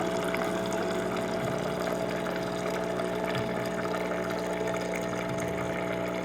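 A Flavia Creation C200 machine being descaled with vinegar pumps hot water into a cup, a steady, continuous hum of pump and flowing liquid with no talking.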